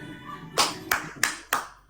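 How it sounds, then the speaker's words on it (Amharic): A few people applauding a woman, four separate claps coming close and fairly sharp, spaced irregularly. "አጨብጭቡላት፣ አጨብጭቡላት፣ አጨብጭቡላት"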